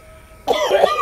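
A person coughs once sharply and close, a rough burst that follows a quiet hum with a faint steady tone.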